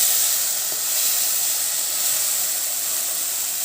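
Ground coriander leaves fry in a pan with onions, giving a continuous bright sizzle and hiss, steady and close, with no talking.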